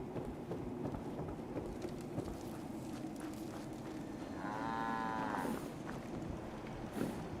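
A cow moos once in a settlement-building video game, a long low drawn-out call in the middle of a faint rain-like ambient backdrop.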